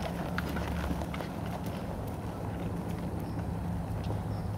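A horse cantering during a dressage lesson, its hoofbeats a muffled, rhythmic clip-clop over a constant wind-like background rumble.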